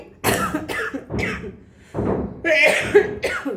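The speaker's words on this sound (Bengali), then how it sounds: "শুরুতেই কাশি উঠে গেল।" Several harsh coughs in a row from one person close by, separate bursts with short gaps between, and no talking.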